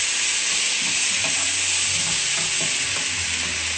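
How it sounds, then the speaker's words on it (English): Aubergine and onions fry in a pan while being stirred, a steady close sizzle with soft scraping and clacking of a utensil against the pan throughout. "I'll give it a stir."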